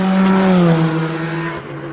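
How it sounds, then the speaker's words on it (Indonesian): A toy Formula race car's motor whirs in a steady, close, fairly loud drone with a constant pitch, easing off slightly toward the end. No one speaks. "Lihat, ada mobil balap formula."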